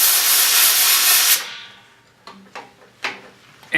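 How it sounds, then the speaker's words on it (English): Compressed air blasts loud and hissing against a sanding disc to clear buildup while turning a hackberry bowl, then cuts off, leaving a few light clicks and knocks. "I can take some compressed air right now"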